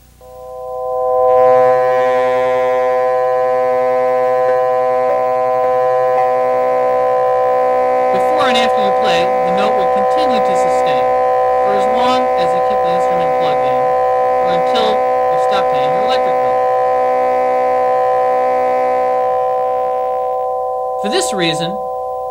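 A sustained Yamaha DX7 II FD synthesizer note with envelope level 4 set above zero, sounding as a loud, steady harmonic tone that never fully dies away, with shimmering metallic overtones rising in the middle and a brief click near the end.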